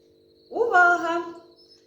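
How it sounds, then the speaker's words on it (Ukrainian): A grasshopper chirp is played in a children's lesson about insects: one loud, near, harmonic chirping call of about a second that rises quickly and then holds, heard alone over a faint steady hum. "до нас повернувся коник стрибунець"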